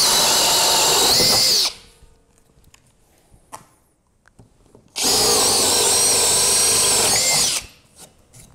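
A power drill drives a threaded spade bit into a pine stud in two loud, close bursts, each lasting a couple of seconds and separated by a quiet gap with small clicks and handling noises.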